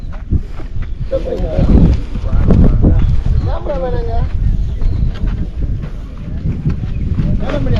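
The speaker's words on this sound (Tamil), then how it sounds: "காற்று வந்து நல்லா அடிக்க ஆரம்பிச்சிச்சு" Strong wind on Velliangiri mountain buffets the microphone in heavy, rumbling gusts while a person talks through it in Tamil.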